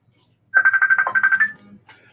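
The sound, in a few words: telephone ringing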